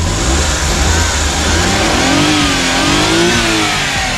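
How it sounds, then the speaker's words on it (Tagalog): A small Every Wagon 4x4 manual engine revs steadily up close, its pitch rising and falling slightly over a constant mechanical drone. "Yan po yung andar ng makina natin eh."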